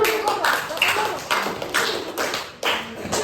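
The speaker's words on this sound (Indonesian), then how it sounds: "Oke, tepuk tangan." Students in a classroom clap in a short burst of scattered, uneven hand claps, fairly close and moderately loud, with voices murmuring underneath.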